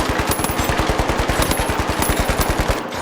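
Rapid automatic gunfire in a battle royale video game, a loud, steady burst of evenly spaced shots lasting about three seconds before cutting off abruptly.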